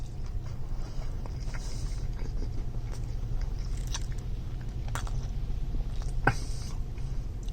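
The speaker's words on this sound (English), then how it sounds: "The pickles give it an extra crunch." Someone bites and chews a Popeyes chicken sandwich with pickles up close, with faint crunches and wet chewing over a steady low background hum.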